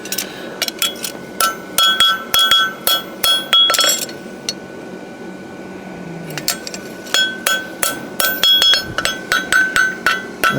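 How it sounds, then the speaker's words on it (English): A farrier's hammer strikes a steel horseshoe while forging and clipping it, sharp ringing metallic blows in quick bursts of repeated strikes, loud and close, with a brief pause midway before the hammering resumes. "I set my clip, I'm aiming kind of half, my hammer's on half, right in the middle."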